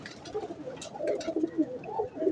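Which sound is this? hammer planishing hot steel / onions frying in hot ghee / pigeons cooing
pigeons cooing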